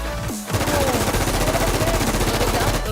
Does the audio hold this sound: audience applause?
no